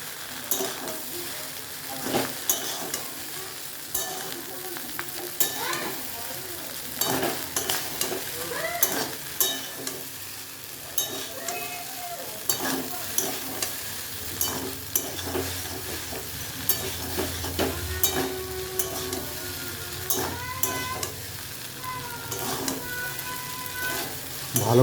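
Homemade pasta with potato and egg is stirred in a hot pan with Maggi masala and sugar, a continuous sizzle and fry under repeated scraping and clinking of a spoon, with faint voice in places.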